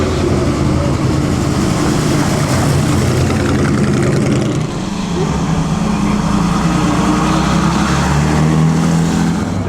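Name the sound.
Cooper Jaguar race car engine at the Mille Miglia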